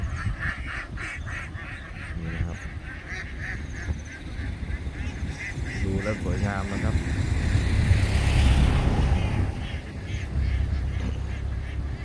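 A large flock of roughly two to three thousand ducks fills a rice field, honking and quacking in a dense, continuous chorus close by, while someone speaks over the birds.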